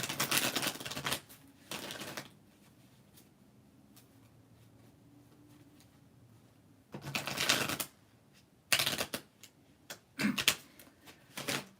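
Tarot cards are shuffled in several quick riffling bursts, close and crisp, separated by quiet pauses.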